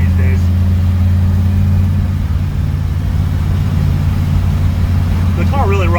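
A 1952 Henry J gasser with a 409 cubic-inch engine runs with a steady, loud low rumble throughout, while a person talks over it near the start and end.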